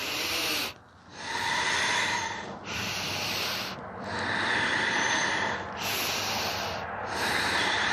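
Strong, rhythmic breaths drawn in and pushed out through the nose during a yoga practice, each one a loud, close, breathy rush separated by short pauses, about six cycles in a steady pattern.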